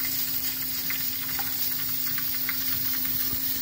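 Chopped onion sizzles and crackles steadily in half a cup of hot ghee in a deep cooking pot, a close, continuous frying hiss with a faint low hum underneath and no voices.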